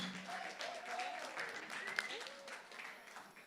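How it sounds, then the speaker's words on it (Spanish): A crowd at a singing contest semifinal applauds softly and steadily in the distance, while voices carry over the clapping. "a ver ese cálido aplauso y ovación"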